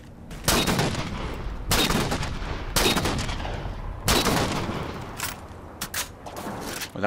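Heavy single gunshots in the Halo 4 video game, about five loud booming reports spaced a second or so apart, followed by a few quicker, lighter shots near the end.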